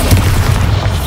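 A Bombarda explosion spell goes off in Hogwarts Legacy, a dense, booming blast with heavy low rumble that fills the whole second at steady loud level, no voices.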